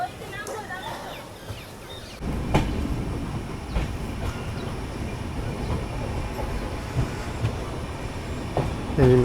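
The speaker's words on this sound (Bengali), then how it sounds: "2 মিনিট দাঁড়িয়ে ট্রেন বেরিয়ে গেল" The Kanchankanya Express pulls away from a station and gets under way, its rumble and rolling wheels rising after a quieter start, with clicks and clatter throughout and brief voices around it.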